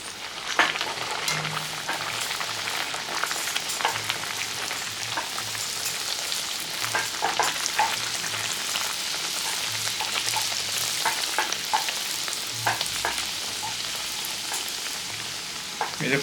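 Bhatura dough fries in hot oil in a kadai, giving a dense, crackling, bubbling sizzle that runs steadily throughout with light stirring, close and fairly loud, and no talk over it.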